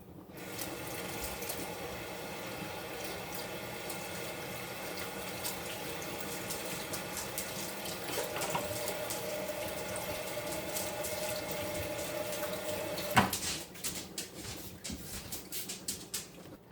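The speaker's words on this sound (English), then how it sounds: "Let me wash my hands again." Water runs steadily from a kitchen tap while hands are washed, a continuous close splashing rush that changes character near the end as the flow is shut off, with no talking.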